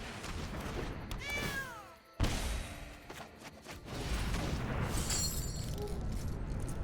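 A cat's meow from the Cauldron Familiar card in Magic: The Gathering Arena, a short descending meow-like call followed by a sharp crash and game effects, moderately loud.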